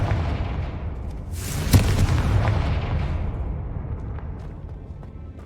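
A Confringo blasting spell in Hogwarts Legacy goes off as a single loud explosive boom with a sharp crack, then a long rumbling decay in a stone catacomb.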